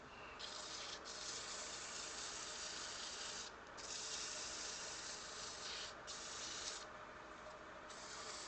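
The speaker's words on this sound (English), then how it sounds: "So while I'm sanding on this" Steady abrasive hiss of sandpaper against wood spinning on a lathe while turning an acorn box, continuous and close, briefly interrupted a few times as the sanding lifts off and resumes.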